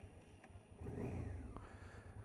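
A 1990 Honda Africa Twin motorcycle engine struggles to hold idle, its close, uneven low rumble suddenly swelling into a stronger rough surge partway through and then running unsteadily to the end, with no talking.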